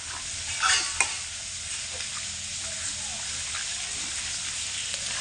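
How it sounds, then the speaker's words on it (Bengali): Close, steady sizzling hiss in a kitchen, with a couple of brief knocks early on, as meat is mixed by hand with ginger, chilli paste and onion. "তো মা এবার মাংসটাকে মেখে রাখছে"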